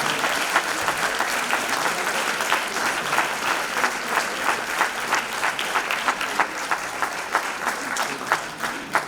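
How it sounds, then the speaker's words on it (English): Audience at a book launch for an autobiography applauding steadily, a dense, close wash of many hands clapping that holds at an even level throughout with no speech over it. "Keep those claps going."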